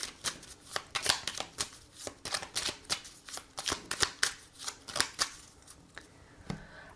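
A deck of oracle cards being shuffled for a reading, with rapid crisp riffling and flicking of cards, close and continuous for several seconds.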